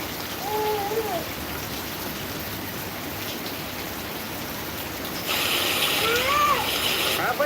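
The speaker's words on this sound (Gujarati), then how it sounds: "વરસાદ જોવે છો" Rain pours in a steady, close hiss of drops that swells louder near the end, with short calls from voices rising above it.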